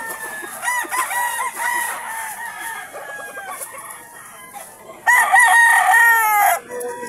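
Sweater gamefowl roosters crow repeatedly at a farm in San Jose del Monte, Bulacan, with several overlapping cock-a-doodle-doos and one loud, close crow near the end.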